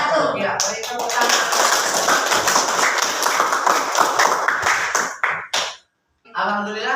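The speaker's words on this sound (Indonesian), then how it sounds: "beri tepuk tangan" A classroom group claps after a class presentation, dense close applause lasting about five seconds before stopping abruptly, followed by a brief silence and then a voice speaking.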